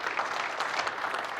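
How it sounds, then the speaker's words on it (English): Audience applause for a company COO at a self-storage industry event, a dense steady wash of clapping from a crowd throughout, fairly loud and even with no talk over it. "Now we better clap for Sean even louder."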